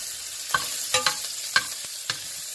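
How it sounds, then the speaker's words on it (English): Cauliflower gratin ingredients being sautéed and stirred in a pan, a soft steady sizzle broken by several sharp scraping clicks of the utensil against the pan. "So just saute it for about 30 seconds."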